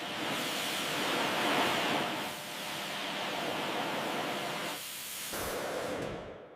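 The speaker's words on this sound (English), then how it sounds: "Melting the grease away with high-pressure steam." A steady, broad hiss of high-pressure steam spraying continuously onto a greasy engine bay of a 1989 Batmobile, briefly dipping and cutting near the end; no voices.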